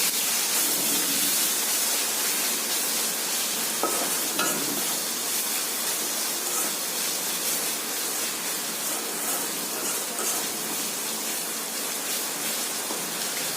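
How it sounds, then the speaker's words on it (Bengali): Ginger-garlic paste fries in hot oil for a Bengali potol chingri curry, a steady dense sizzle with occasional scrapes of a spoon stirring through it, continuous and close with no voices. "এইবার আমি তেলেতে এই আদা রসুন বাটাটা দিয়ে দেবো, দিয়ে ভালো করে নেড়ে"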